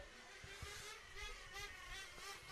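Nitro-powered 1/10 scale RC race cars scream past on a racing track during a European championship final, a buzzing high-pitched engine whine rising and falling, fairly faint and distant with no talk.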